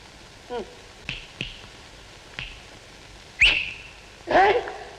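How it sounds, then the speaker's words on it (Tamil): A person whistles in short bursts of rising and falling pitch, with a few soft taps between them and the loudest whistles near the end. "என்ன விசில் அடிக்கிற"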